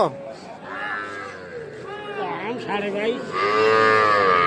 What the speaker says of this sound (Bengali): এই পাশে দেখছি একটা ষাঁড় বাচ্চা, বয়সটা কিন্তু কম হবে